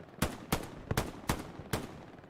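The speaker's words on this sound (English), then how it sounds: "No, he actually is shooting." Gunfire in the World War II shooter Hell Let Loose during an 18-versus-18 tournament match: five distinct sharp shots spaced roughly evenly, moderately distant and fairly quiet, with no talk over them.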